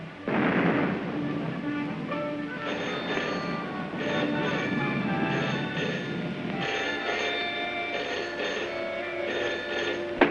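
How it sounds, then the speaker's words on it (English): Anti-aircraft guns firing in the distance on a 1936 film soundtrack, a sustained low rumble with dull booming swells under a steady, tonal background. "Listen, guns again."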